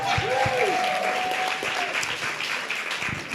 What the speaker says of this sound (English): Big round of applause for each other.